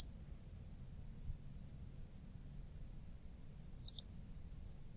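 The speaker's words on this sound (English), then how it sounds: "Okay, click on them." A computer mouse gives two quick, faint clicks close together near the end, heard over a quiet low background hum with no talking.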